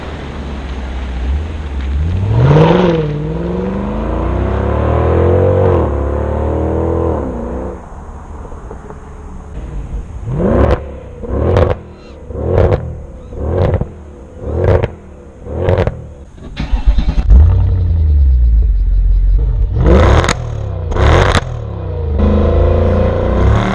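A Mercedes CL63 AMG with a naturally aspirated 6.3 liter V8 idles, then gives a run of about eight sharp, loud revs in quick succession, with crackles and a deep rumble between them.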